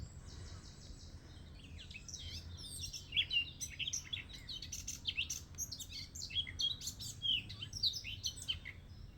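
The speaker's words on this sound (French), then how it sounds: "Ça, c'est les petits oiseaux qui vous disent bonjour." Small birds chirp and tweet in quick, scattered bursts near a clifftop on the coast, bright calls layered over a low wind rumble, with no talking.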